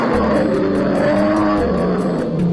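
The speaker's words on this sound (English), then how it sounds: "He gave a huge roar." A lion's deep, rumbling roar dominates, loud and sustained with growling tones, as in a storybook scene of a lion roaring into a well, heard alone.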